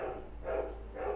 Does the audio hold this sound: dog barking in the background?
yes